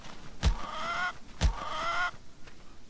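Two short clucking calls from a chicken in the video game Hollow Cocoon, each a sharp onset with a tonal squawk, spaced about a second apart and heard alone against quiet background.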